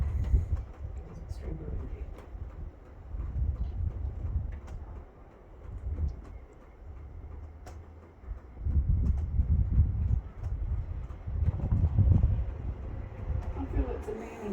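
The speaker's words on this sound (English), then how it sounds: "It's very windy at the moment." Gusty wind buffets the microphone outdoors at Stannum House at night, low rumbling surges rising and falling over about fifteen seconds, strongest in the second half, with faint speech-like murmurs underneath.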